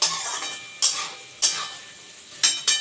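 Chilli chicken fries on a medium-high flame under a constant hiss, with five sharp spatula scrapes against the pan at uneven intervals, close by and without voices.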